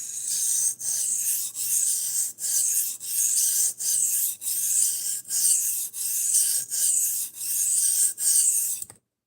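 A knife blade is stroked repeatedly across a sharpening stone to raise a burr, giving a steady series of about a dozen loud, evenly spaced rasping strokes with brief pauses between them and no talking.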